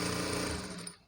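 A sewing machine stitches a Punjabi dress top in a brief, fast mechanical whir that runs steadily, then slows and fades out at the end.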